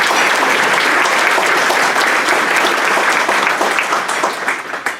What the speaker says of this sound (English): So I'd like to give a round of applause to these students.